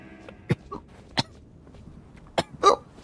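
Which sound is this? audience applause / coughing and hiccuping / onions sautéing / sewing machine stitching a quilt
coughing and hiccuping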